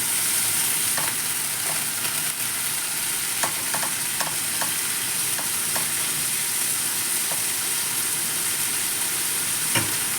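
Green beans and minced pork fry in a pan with a loud, steady sizzle, broken by occasional soft stirring clicks, with no talking.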